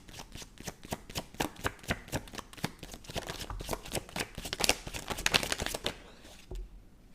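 Tarot cards being shuffled by hand, a quick run of crisp riffling flicks and soft slaps, close and fairly quiet, with no talking.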